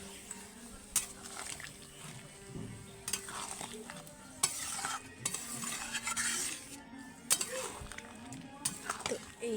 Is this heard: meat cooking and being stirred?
yes